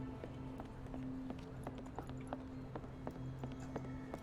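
Horse hooves clip-clop steadily in a Sherlock Holmes video game, a regular trotting rhythm of sharp taps over a low ambient hum, moderately near and without talk.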